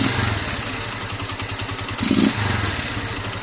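A motorcycle engine fitted with a Nibbi 28mm carburetor runs loud and close, idling roughly and then revving briefly as the throttle is blipped before settling back down.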